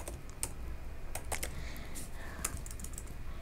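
Fast, steady computer keyboard typing while code is written in a React project, a close run of light clicks with a few sharper key strikes, no talk.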